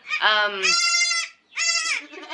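Young goat kids bleating up close, two long high-pitched cries separated by a short gap, loud and clear.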